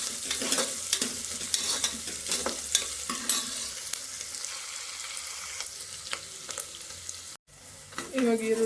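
Chopped onions frying and sizzling in hot oil with mustard seeds and cumin, a steady close crackle with stirring scrapes throughout, a brief cut near the end before the sizzle returns.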